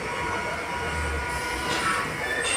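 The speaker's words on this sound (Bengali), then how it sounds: "ওপারে ট্রেন যাচ্ছে।" Train running past on the far side of a station, a steady close rumble of wheels on rails with faint high squeal near the end, no talking.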